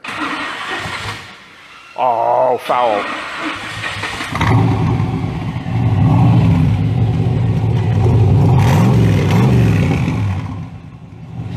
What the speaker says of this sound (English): I want you to go ahead and start the car